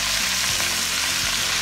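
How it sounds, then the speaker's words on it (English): Chopped onions and bell pepper fry in a hot pan for fried potatoes, a steady loud sizzle filling the whole moment with faint stirring bumps underneath. "we're going to get our onions and bell pepper started in here, let them go to frying down"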